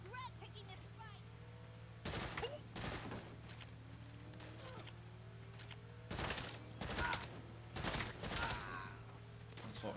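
Bursts of gunfire from the video game Saints Row (2022), several loud clusters of rapid shots separated by pauses over a steady low hum, with a player talking in between.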